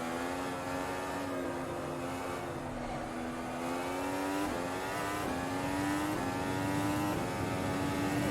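Formula 1 car in the Automobilista racing game, its high-pitched engine note stepping down through a series of rapid downshifts, revs dropping and climbing again in a continuous loud whine with no talk.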